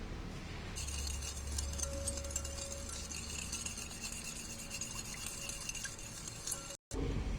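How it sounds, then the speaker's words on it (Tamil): Chocolate cupcake batter is stirred in a bowl, a steady close scraping and clinking of a utensil against the bowl running throughout, with no voices. "இப்போ இது எல்லாம் சேர்ந்து கலக்கிக்கணும்."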